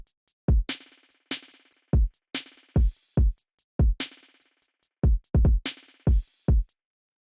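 Programmed future beats drums, with punchy kicks, crisp snares and ticking hi-hats in a sparse, steady groove, dry and up close, with no voices.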